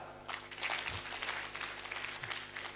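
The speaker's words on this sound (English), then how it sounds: "Please clap harder." Audience applause at an academic conference, a sustained patter of many hands clapping throughout, fairly faint and distant in the hall.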